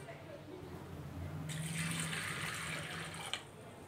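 Water pours into a pot of sprouted black chickpeas, a steady splashing fill that runs for a couple of seconds and then stops, with a faint low hum beneath it.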